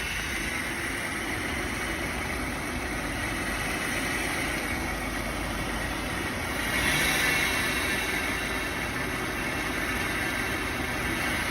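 Steady, continuous engine hum of a 2010 Nissan Murano running after a jump start with a jump box, heard at auction, a broad constant drone with a slight swell partway through and no talk.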